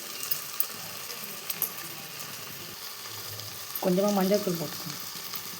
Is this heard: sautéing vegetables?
yes